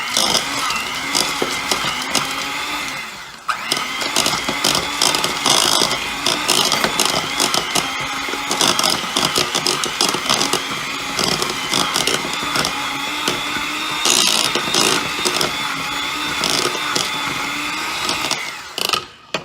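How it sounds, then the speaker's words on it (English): Electric mixer creaming a stick of unsalted butter with brown sugar, a continuous loud whirring motor with rattling beater clatter, running steadily throughout with brief dips in level. "We just put a stick of unsalted butter in. And we're going to use the mixer until it's fluffy."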